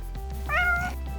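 A single cat meows once, a short rising-and-falling cry over quiet room hum.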